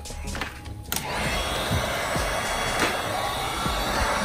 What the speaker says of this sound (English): So, heat gun.